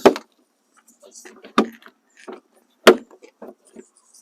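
A Jeep Wrangler door panel pressed back into place, three sharp plastic snaps spaced about a second apart with small rattles and handling noise between them, close up.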